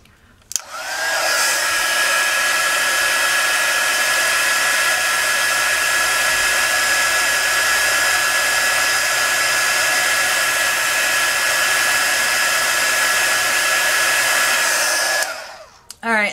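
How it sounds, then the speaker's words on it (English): Heat gun drying an air dry clay embellishment, a steady loud blowing whoosh with a high motor whine that starts abruptly, holds evenly for about fifteen seconds, then stops. "let me hit the heat gun on it"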